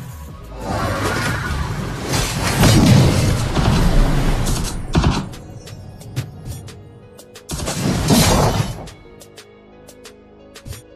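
A defensive tower crumbles in the mobile MOBA Arena of Glory, heard as loud grinding, creaking mechanical collapse with whooshes, swelling in two heavy bursts separated by a quieter stretch.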